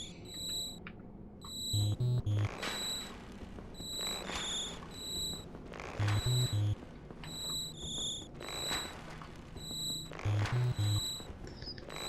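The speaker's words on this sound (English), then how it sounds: "it's a forest level when you first get there, and it starts off with like the sounds of crickets and stuff" Crickets chirp in a forest level of Dark Souls, a repeating pulsed trill in regular bursts over a soft ambient bed, joined by low periodic thuds, with no voices.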